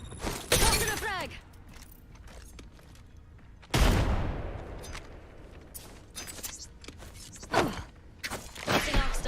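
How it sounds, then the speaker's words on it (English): A frag grenade is thrown in a shooter video game and goes off as loud sharp bursts with creaking, shattering debris and gunfire-like cracks between quieter stretches. "Tossing a frag."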